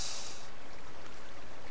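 Water placed from a bucket in Minecraft makes a soft, continuous splashing wash that starts with a brighter hiss and then fades into a steady low trickle, heard alone with no voice.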